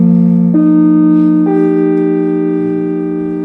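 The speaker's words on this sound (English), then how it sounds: "So the basic idea behind that was a spectral chord" A microtonal spectral chord built from harmonics 1, 21, 7 and 9 over a bass fifth, played as sustained tones that enter one after another and hold together, fading gently.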